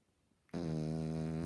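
A French bulldog lets out a single loud, nasal snoring rasp after half a second of near silence. The buzzing, tonal snore holds steady for about a second, close to the microphone.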